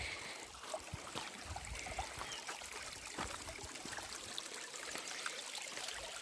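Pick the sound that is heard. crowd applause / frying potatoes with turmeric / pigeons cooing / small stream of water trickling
small stream of water trickling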